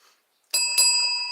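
A bicycle-style bell rings twice in quick succession after a brief silence, its bright metallic tone lingering clearly and alone.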